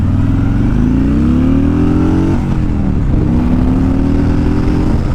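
Harley-Davidson Road King motorcycle engine pulling hard through a shift from second to third gear, a loud steady rumble whose pitch climbs, drops at the shift, then climbs again, with continuous road noise.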